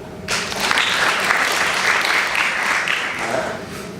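A lecture-hall audience claps together, a dense burst of applause that starts suddenly and holds steady for a few seconds before thinning out.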